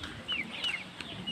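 Chickens at a backyard coop with Rhode Island hens and a rooster, giving a few short, soft clucks at moderate distance over a quiet background.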